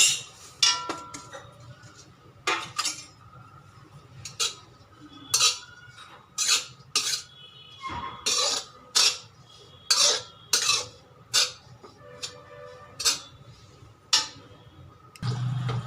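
Mawa roasting in a pan for adadiya pak, stirred with a metal spoon that strikes and scrapes the pan in a steady run of sharp, close clinks, about one every second, over a low background hiss.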